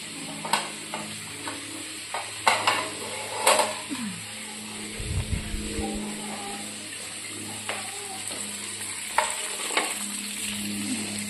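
Chicken wings fry in a pan with a steady, low sizzle, broken by scattered clicks and taps of a utensil against the pan, heard close and fairly quiet.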